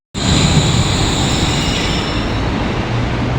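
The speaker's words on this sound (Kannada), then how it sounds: "ಬಂತು ಟ್ರೈನ್ ಬಂತು" The Wuppertal Schwebebahn, a suspended monorail in Germany, pulls in with a loud, sudden roar of wheels on rail and a high metallic squeal, staying close and steady after the abrupt onset.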